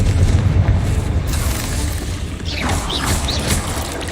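A Confringo fire spell erupts in the Hogwarts Legacy video game with a deep, rumbling boom that dominates the opening and decays into a crackling, mechanical rattle with faint higher magical whooshes.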